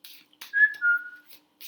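A person whistles a short tune, a few clear sustained notes sliding slightly in pitch, close and fairly soft, with brief breathy sounds between them.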